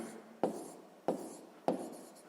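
Chalk or pen strikes during a sixth-grade math lesson writing numbers: three sharp taps about half a second apart, each trailing off into short scratching, close and clear without talk.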